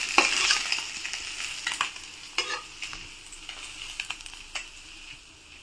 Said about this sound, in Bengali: পরের মাছগুলো আমি এরকম করে ভেজে নেব